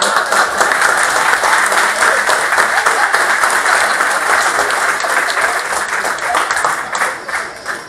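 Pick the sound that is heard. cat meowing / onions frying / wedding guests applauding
wedding guests applauding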